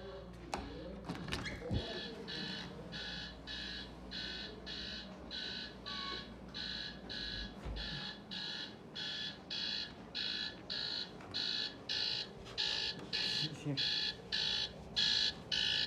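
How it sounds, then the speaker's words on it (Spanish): An electronic alarm beeps in a steady, repeating pulse pattern, continuing for a long stretch at moderate volume with some faint background noise. "Tiene una hora sonando la alarma."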